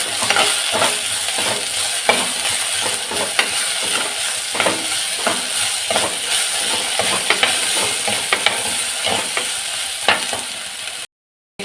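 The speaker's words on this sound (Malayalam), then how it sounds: "ഏത്തയ്ക്ക ചതുര കഷ്ണങ്ങളായിട്ട് അരിഞ്ഞത് ചേർത്ത് കൊടുത്ത് ഇളക്കിയാണ്" Diced raw plantain pieces are stirred into aviyal, a Kerala sadya vegetable dish, in a pan, with steady scraping and shuffling under a continuous sizzle, close and fairly loud, ending abruptly.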